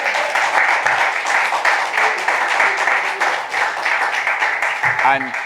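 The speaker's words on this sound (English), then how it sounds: "give him the applause that he deserves now after he has said it" Audience applause at a media launch for Bob Marley One Love Football at Tuff Gong Studios, steady close clapping throughout with a brief voice near the end.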